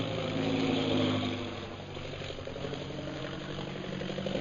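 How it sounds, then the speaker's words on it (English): Steady low engine drone of a bomber plane arriving overhead, an audio drama sound effect, loud at first and easing slightly as it holds a continuous rumbling tone throughout. "That is one of our new bombing planes, now arriving"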